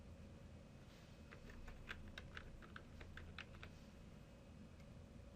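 A search term is typed on a computer keyboard as a quick run of soft, close key clicks lasting a few seconds, with quiet room hiss and no talking.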